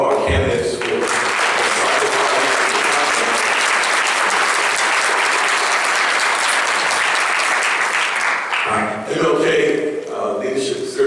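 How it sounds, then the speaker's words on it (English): An audience at a school board candidates' forum applauds in a loud, sustained burst of many hands that breaks off abruptly near the end, followed by a voice starting to speak. "let me take again a round of applause to all of our candidates"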